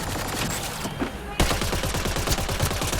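Rapid automatic gunfire in the sci-fi shooter Mass Effect Andromeda on the planet Eos, a dense rattling burst, briefly cut, then resuming loud and continuous with echoing reports.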